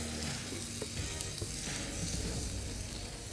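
Onions and peppers fry in beef tallow on a flat cooking surface, giving a steady, dense sizzle that runs continuously at close range with no talking.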